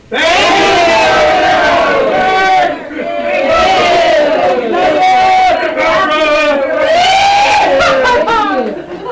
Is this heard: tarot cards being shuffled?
no